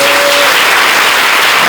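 Audience at a religious community worship gathering applauds loudly, a dense, steady wash of clapping close up throughout.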